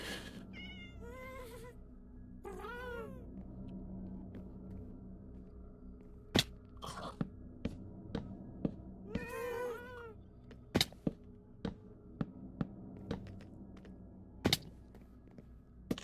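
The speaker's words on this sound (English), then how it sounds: "The cats really are just starting to spawn just about anywhere, huh?" Cats meowing in the video game Minecraft: several clear meows arrive in short bursts early on, then a scatter of sharp clicks and thunks from play follows, with no talk over them.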